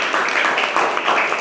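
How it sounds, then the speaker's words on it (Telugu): Brief burst of steady hand clapping from a small group, loud and close, lasting about a second and a half. "Very good, claps."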